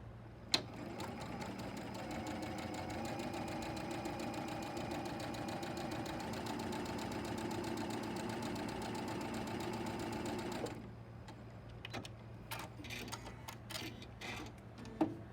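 Sewing machine stitching quilt fabric for nine patch blocks, a steady close mechanical whir with rapid ticking that runs for about ten seconds, then stops, leaving a few faint clicks and handling sounds.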